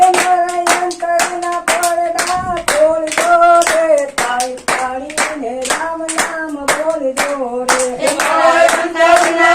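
A group claps hands in a steady, brisk rhythm, the sharp claps repeating evenly throughout while voices sing a bhajan melody over them.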